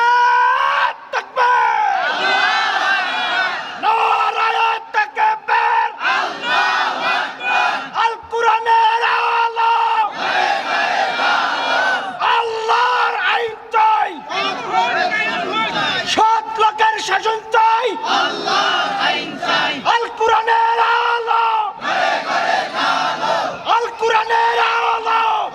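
A large crowd at a religious sermon gathering (waz) in Mirzapur, Tangail, chants slogans in loud repeated bursts of massed voices, with brief pauses between each shouted phrase.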